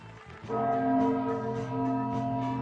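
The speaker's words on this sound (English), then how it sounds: "Now first, it's chime time." A bell-like chime rings out after a brief quiet moment, one sustained resonant strike whose ringing tones linger and swell for a couple of seconds, loud and close, with no talking.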